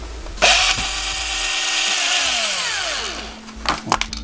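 A power drill whirs up to speed and runs steadily, its pitch sliding down as it cuts through thin plastic, followed by a few short bursts.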